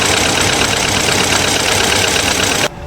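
A BMW engine idles roughly with a misfire in cylinder 2, giving a loud, close, continuous shaking drone that cuts off abruptly just before the end.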